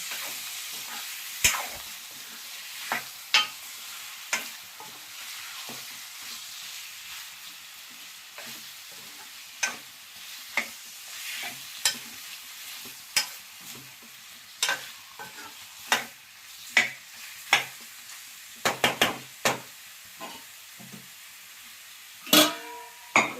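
Chicken fry being stirred in a pan, a soft continuous sizzle broken by sharp, irregular scrapes and clicks of the spoon against the pan, close and alone with no talk.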